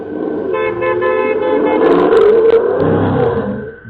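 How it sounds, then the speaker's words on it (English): A car horn honks repeatedly in loud bursts as thieves speed off in a stolen 60,000 euro car, with engine roar underneath, recorded by a doorbell camera. "They tear off, honking the car horn along the way."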